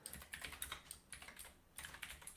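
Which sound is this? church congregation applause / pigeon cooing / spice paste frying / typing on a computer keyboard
typing on a computer keyboard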